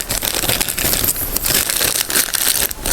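A tiny plastic packet nested inside another is crinkled and torn open close up, with loud irregular rustling and crackling bursts throughout.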